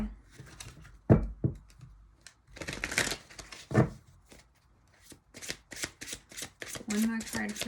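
Tarot cards shuffled in bursts of crisp riffling and flicking, close and fairly quiet, with short pauses between bursts and a voice speaking briefly partway through.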